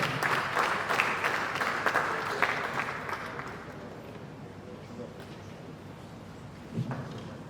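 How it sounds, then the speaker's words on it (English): Audience applause at an engineering and surveying conference, where the Faculty of Engineering dean is welcomed, begins as brisk, full clapping and then thins and fades to a soft scatter over several seconds, with faint room murmur under it. "Round of applause, please."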